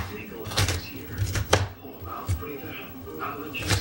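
A knife chops on a cutting board in irregular sharp knocks, several in a row, under someone talking.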